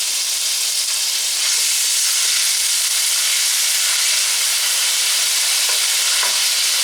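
Previously frozen vegetables fry and brown in a pan with a loud, steady, close sizzle and hiss, broken by occasional stirring scrapes.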